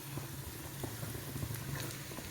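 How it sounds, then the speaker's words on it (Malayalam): Chopped tomatoes going into onions sautéing in a pan for a homestyle chicken roast, a soft continuous bubbling sizzle with faint crackles, close but quiet, with no voices. "ഇനി നമുക്ക് തക്കാളി ഇട്ട് കൊടുക്കാം"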